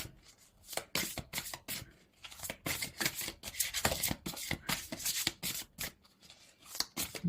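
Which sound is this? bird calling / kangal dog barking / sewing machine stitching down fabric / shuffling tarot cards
shuffling tarot cards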